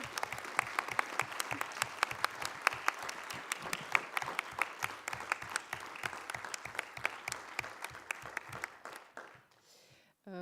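Sustained applause from a conference closing-session audience, dense steady clapping for about nine seconds before it fades out near the end.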